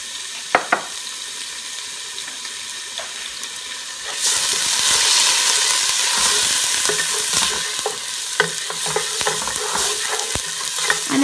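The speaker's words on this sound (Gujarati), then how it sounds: "આપણે ડુંગળી નાખશું." Onions tip into a hot pan for a kofta curry and a loud, steady sizzle bursts up, continuing as a hissing fry with scattered clicks and scrapes of stirring, close by and without talk.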